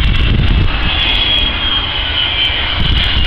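Avro Vulcan jet aircraft at the Kemble air show, a loud, steady roar of jet engines with a high whine, sustained and close throughout with no talking.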